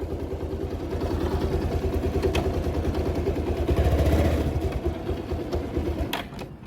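A motorcycle engine idles steadily with a low, rhythmic putter and some mechanical rattle, close by and continuous throughout.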